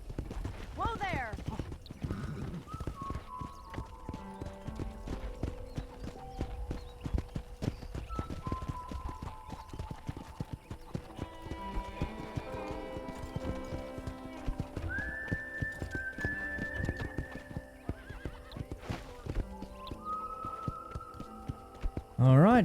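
Horse hooves clip-clop steadily on a ranch in Red Dead Redemption, a continuous rhythmic trot under game music and spoken dialogue, with a brief whinny.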